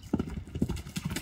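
A horse walks on firm ground, its hooves giving quick, light clip-clop strikes in an uneven rhythm, close and clear with no talk.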